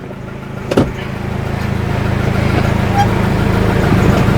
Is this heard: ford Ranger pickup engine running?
yes